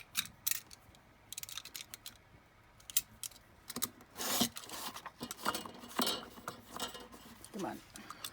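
Scissors snip and rasp through paper while trimming pages for a children's junk journal, with several close cuts and rustling handling in an uneven rhythm, and a voice speaking at times.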